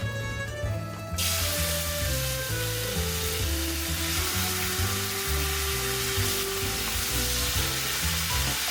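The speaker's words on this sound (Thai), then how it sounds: "ผัดกระเทียมให้มันมีความเปลี่ยนสารด้านนอกแล้วก็ใส่มะเขือเทศที่เรา หั่นเอาไว้นะคะ" Garlic and tomatoes sizzle loudly in homemade olive oil, a dense, steady frying hiss that starts abruptly after a brief moment and continues without letup.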